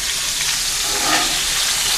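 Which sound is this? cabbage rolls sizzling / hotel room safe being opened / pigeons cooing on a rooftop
cabbage rolls sizzling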